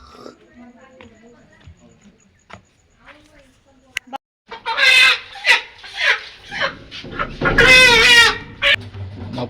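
Chickens squawk and cluck at a village chicken shop being slaughtered, loud harsh calls bursting out in the second half over people talking nearby.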